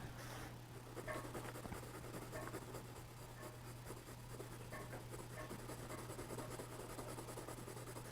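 A pencil drawing a carrot on paper gives a faint, steady scratching that runs on without a break. The room hum is low and no one speaks.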